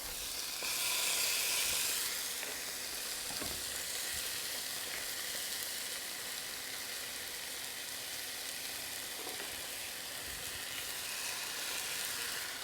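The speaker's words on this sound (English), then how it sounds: "We're just browning this anyway" Chicken pieces browning in a hot frying pan, a steady close sizzle and crackle with a brief louder burst near the start, then an even hiss throughout, no voices.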